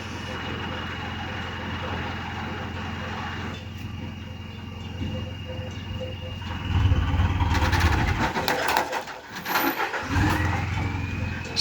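A roof delivery truck's engine cranks, catches and cuts out repeatedly, an engine struggling with a suspected faulty clutch; low rumbling bursts rise and collapse over steady background noise, with speech heard nearby.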